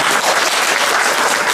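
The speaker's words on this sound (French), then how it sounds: "C'est déjà une occasion pour moi de demander aux veuves d'applaudir pour elles-mêmes" Widows at an International Widows' Day gathering in Cameroon clap for themselves, a dense, loud, continuous burst of applause.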